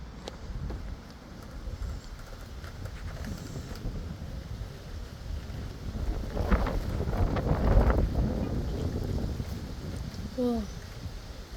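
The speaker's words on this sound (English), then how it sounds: "Why is it so windy?" A strong wind on a windy day buffets the microphone with a deep, rumbling roar that builds toward the middle and stays loud and close throughout.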